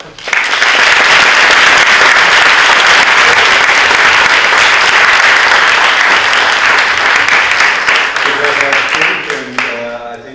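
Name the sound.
audience applause for a panel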